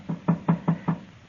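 Five sharp, evenly spaced knocks on a wooden door sound in quick succession at moderate volume in an old-time Western radio drama, with no talk over them.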